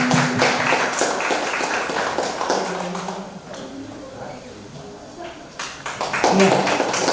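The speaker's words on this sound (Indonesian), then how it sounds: "Beri tepuk tangan." Applause from an audience at a hospital pastoral care gathering, a burst of clapping that thins out midway and picks up again, with a voice talking over part of it.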